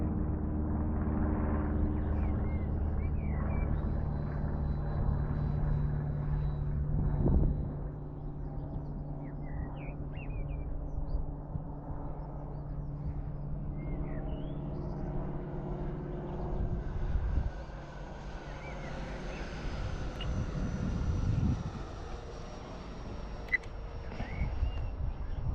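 A QT Models T45 Hawk RC model jet flying overhead on its maiden flight, a continuous whooshing engine drone that rises and falls as it passes, moderately distant and steady throughout, with faint bird calls and no talking.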